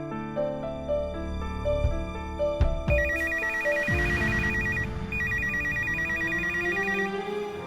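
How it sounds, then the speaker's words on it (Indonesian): A telephone rings in an office, giving a repeated electronic ringtone pattern over background music, clear and close, with a couple of knocks or clicks before it. "sebentar saya telepon Pak Arganya dulu."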